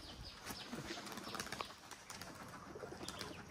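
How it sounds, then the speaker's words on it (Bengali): Pigeons released in the morning take off with soft, fluttering wingbeats and scattered flaps against a quiet outdoor background, fairly faint and a little distant, with no voices. "সকাল সকাল কবুতর উড়ানো মজা আলাদা"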